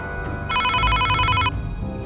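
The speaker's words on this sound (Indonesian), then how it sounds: "Eh, si Tommy telpon." A phone rings in the Sakura School Simulator game, a bright electronic trill lasting about a second over low background game sound, with brief soft tones before and after.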